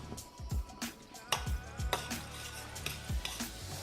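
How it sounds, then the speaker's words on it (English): Sausage pieces dropped back into a simmering sauce in a pan give soft wet plops and squishes over a low sizzle, several separate thuds close by. "So now I'm gonna go ahead and add my sausage back into the sauce."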